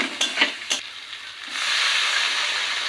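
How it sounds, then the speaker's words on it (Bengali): Water is poured into a pan of cooked-down curry to make gravy. A few knocks of a utensil come first, then a loud, steady hiss of sizzling steam rises and holds. "এখন পরিমাণ মতো জল দিয়ে দিবে ঝোলের জন্য"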